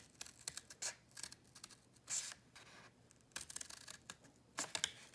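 A leather slat is cut for the spine of a 1661 book being restored in quarter leather: several short, crisp snipping and rasping bursts close by, separated by quiet gaps.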